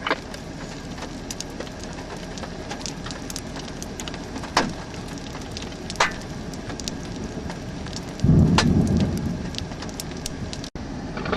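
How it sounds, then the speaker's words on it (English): Rain falls steadily during a Texas storm chase thunderstorm with hail starting, scattered sharp ticks and pops of hailstones hitting, and a brief louder rush of heavier impact near the end. "that looks like a little bit bigger hail is starting to fall"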